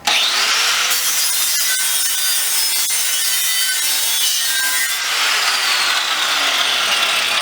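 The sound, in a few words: grinder with flap wheel stripping paint off propane bottle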